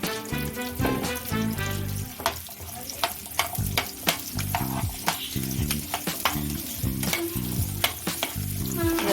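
Small onions (shallots) fry in hot oil for chicken kulambu, a steady loud sizzle with repeated utensil scrapes and stirring knocks over a background hum, and no voices.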